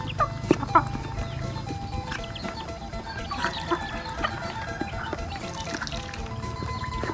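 Chickens and young chicks on a small Thai farm clucking and peeping in scattered bursts at close to mid distance, over a continuous low rural background with faint dripping-like sounds.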